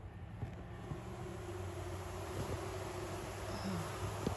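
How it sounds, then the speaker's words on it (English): A swarm of honey bees held in a box gives off a faint, steady droning buzz with a low hum that continues unbroken. "One giant box of bees."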